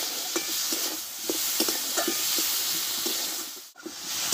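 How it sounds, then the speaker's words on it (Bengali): Spices with turmeric and salt are sautéed together in a pan, giving a steady hiss and sizzle with a run of soft, regular stirring taps and scrapes, close and moderately loud, with a brief dip near the end. "দিয়ে মশলাটা আমি একসঙ্গে ভালোভাবে কষে নেব"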